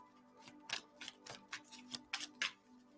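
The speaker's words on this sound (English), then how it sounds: "We'll just shuffle the cards," A deck of cards is shuffled by hand, giving a series of quick, crisp riffling bursts in an irregular rhythm, close up and fairly quiet.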